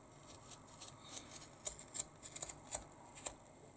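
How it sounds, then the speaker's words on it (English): Scissors snip carefully along the edge of fabric for a market tote, a series of soft, close, faint crisp cuts in an uneven rhythm, quickening slightly in the middle. "we just cut the edge very carefully"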